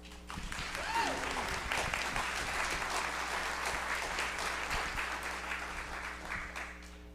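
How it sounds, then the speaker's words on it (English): Audience at a morning panel of an Indigenous Peoples summit gives a sustained round of applause, a dense wash of many hands clapping that holds steady throughout, with faint voices mixed underneath. "give him a round of applause"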